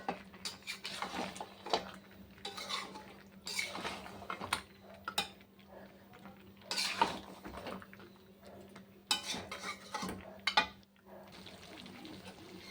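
Mutton curry with potatoes being sautéed and stirred in a pot, a spoon scraping and clattering against the metal in irregular bursts over a steady low hum, with faint sizzling between strokes.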